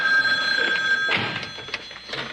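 An indoor telephone at an inn rings in a loud, bright trill that stops partway through, followed by a thunk and quieter room sounds.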